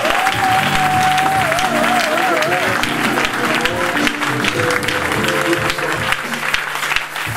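A church congregation breaks into sustained applause and cheering, loud and full throughout, while a voice carries over the crowd.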